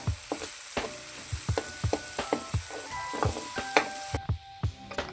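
Onion gravy frying in oil for a chickpea curry while a spoon presses down the leftover onion, giving a steady close sizzle broken by repeated scraping taps and clicks of the spoon against the pan.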